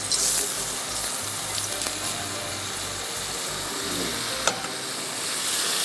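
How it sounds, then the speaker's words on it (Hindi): Mutton stew frying in hot oil, a constant loud sizzle and crackle with occasional scraping stir noises and a faint low hum underneath, no talking. "मैं यहाँ पर मटन स्टू को भून लेती हूँ।"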